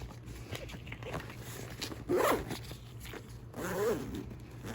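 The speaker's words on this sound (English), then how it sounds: "So, and then that just zips up." Zipper on a Tier 1 Concealed Axis Elite concealed carry pack being zipped shut, two quick rasping pulls close by, with faint background hum and no talking.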